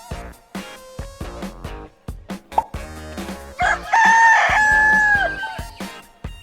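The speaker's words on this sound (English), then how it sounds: "Rooster." A loud, close rooster crows once, long and strained, over a rhythmic music backing with ticking percussion and no talking.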